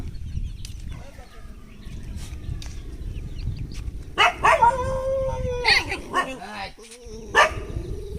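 Dogs howling in a village, with several drawn-out, wavering howls and yelping cries rising in the second half over steady low background noise.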